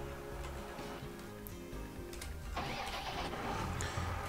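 A farm vehicle's engine cranking and catching, a rough low idle that rises into a steadier, louder running note partway through, close by.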